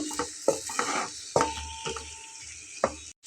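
Spiced kakrol, or spiny gourd, being stir-fried in a pan, with a faint sizzle under several distinct scraping and tapping strokes of a spatula, spaced about half a second apart, close by.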